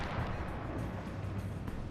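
Cannon fire from a sailing ship during a clash with attackers armed with bows and arrows, heard as a dense, continuous low rumble of booming blasts that stays loud throughout.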